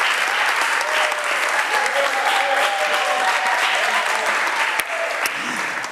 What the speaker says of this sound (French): je pense qu'on peut encore applaudir pour EASY